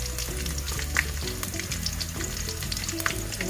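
Chilies and carrots sauteing in a hot oiled pan, a dense continuous sizzle with occasional stirring scrapes and pops, loud and close throughout.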